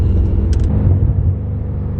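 Engine and exhaust of a BMW M5, a deep, loud rumbling drone close by with a brief higher crackle near the start, no speech over it.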